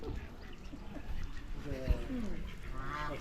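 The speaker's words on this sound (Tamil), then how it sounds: "சூப்பராக இருக்குது பாருங்க. வாத்து" Ducks quack and honk close by at a home with a dog, giving a few short nasal calls in the middle and near the end. People talk over and around them.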